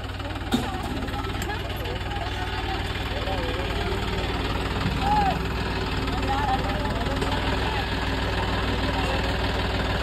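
A tractor engine idles nearby with a steady low, throbbing chug that barely changes, while voices talk faintly over it.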